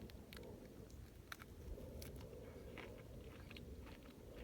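Raw cactus is bitten and chewed up close, with faint crunching and wet bites over a low outdoor rumble, in a post-apocalyptic desert survival setting.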